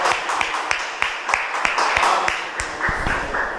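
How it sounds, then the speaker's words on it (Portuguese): A church congregation applauding together, a steady patter of many hands clapping at close range for a few seconds. "Vamos aplaudir ao Senhor Jesus por essa alegria."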